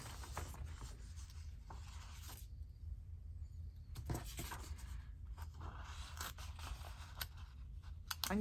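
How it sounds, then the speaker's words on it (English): Scissors snip and rub through junk-mail craft material at close range, soft scraping cuts in short bursts separated by quiet pauses. "I'm going to use these scissors."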